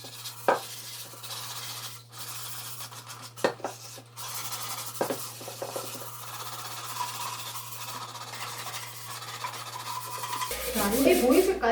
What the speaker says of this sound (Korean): 사포 접어서 손에 발열이 되는 거를 방지하고 이렇게 접어서